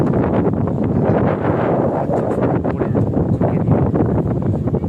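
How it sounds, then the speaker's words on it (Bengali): Strong wind buffets the microphone in a continuous, gusty rumble, loud and close, with no voices. "মনের মতো হাওয়া দিচ্ছে"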